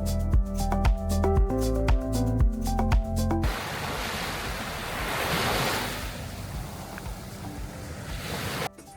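After a stretch of music, sea waves wash onto the beach at Marbella, a broad continuous rushing surf with gentle swells and some wind rumble, alone and moderately loud.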